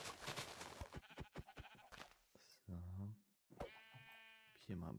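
Sheep in the video game Minecraft bleat in several short, wavering cries, loud and close, alternating with someone talking in German.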